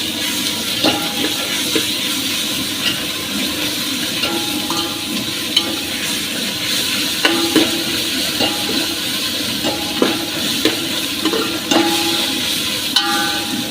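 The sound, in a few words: ginger garlic paste stirred into frying onions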